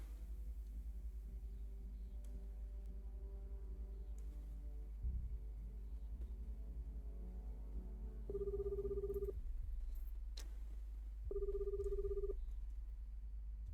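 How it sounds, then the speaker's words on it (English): A Skype-style ringtone chimes in the Kinki Spiritual Affairs Bureau video game: two short tonal bursts about two seconds apart, each lasting roughly a second, over a low steady rumble. "That sounds kind of like a Skype phone call."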